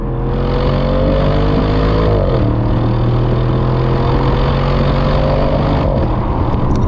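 A 2023 Audi RS6 Performance engine runs loud and steady close by as the car pulls away, its low rumble climbing in pitch, dipping briefly at a gear change, then rising again under load.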